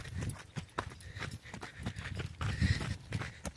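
A mare's hooves clip-clop in a quick, steady rhythm as she runs on a light training outing, close and fairly loud throughout with a bit of outdoor background noise.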